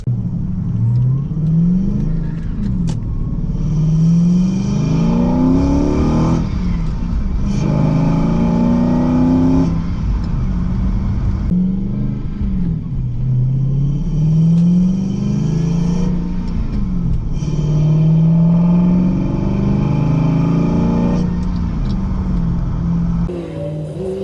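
Car engine intake noise from a budget setup without individual throttle bodies, revved repeatedly in rising and falling sweeps, loud and close, with short pauses between each pull and no talking.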